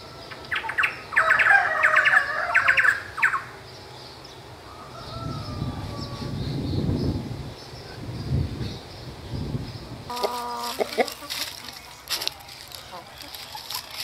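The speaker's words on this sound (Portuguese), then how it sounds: "Esses dois passarinhos são como o João de Barro e a Joaninha." Small birds, a rufous hornero among them, sing in a tree, with bursts of chirping and song at moderate distance, broken by rustling outdoor noise.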